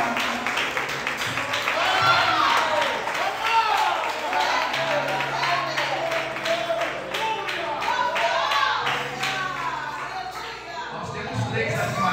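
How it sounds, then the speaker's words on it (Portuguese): A church congregation claps along during a loud worship service, rhythmic hand claps layered under a preacher's energetic voice and crowd sound throughout. "aplauda o Senhor, aplauda o Senhor, aplauda, aplauda, aplauda, aplauda"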